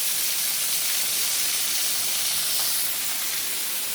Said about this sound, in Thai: นี่คือเป็นน้ำตกกาด